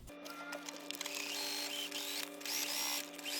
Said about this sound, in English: And now we're going to start sewing.